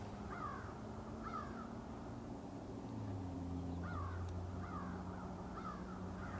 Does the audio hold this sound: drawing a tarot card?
no